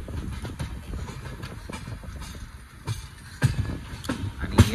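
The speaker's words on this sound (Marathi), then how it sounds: "आपली ट्रेन ही चाललेली आहे" A Shri Ganganagar SF Express passenger train hauled by a WDP 4D diesel locomotive runs along the Akola route, giving a steady rumble with irregular wheel clatter and a few louder knocks near the end.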